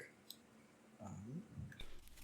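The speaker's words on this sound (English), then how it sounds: "I'm going to quickly shuffle my old Smithwaite tarot deck." An old Smith-Waite tarot deck is shuffled by hand, producing quiet, soft riffling and papery flutters in a short burst after a moment of near silence.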